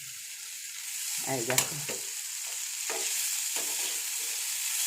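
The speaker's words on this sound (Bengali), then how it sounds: "সকালবেলায় একটু আলু ভাজা হচ্ছে" Potatoes sizzle and spatter steadily in a hot pan with a little onion, a bright continuous crackle close by that carries on throughout, with a short spoken phrase briefly over it near the start.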